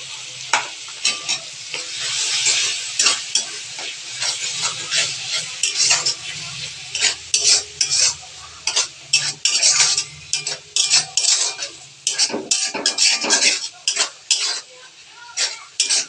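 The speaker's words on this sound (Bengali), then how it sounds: "সবগুলি মশলাকে কিন্তু কষাতে হবে ভালোভাবে, যত কষাবে ততই টেস্ট হবে রোস্ট বা কুরমার টেস্টটা একটু ভালো হবে।" Spices and tomato paste being sautéed for chicken kurma in a pan, with a spoon repeatedly scraping and clinking against the metal over a steady oil sizzle. The stirring strokes are close and irregular, with no talking.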